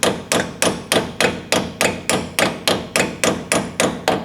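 A hammer strikes a steel punch to drive out a rusted, seized bolt from underneath a vehicle: about fifteen sharp metallic blows in a steady rhythm, loud and close, with no talking.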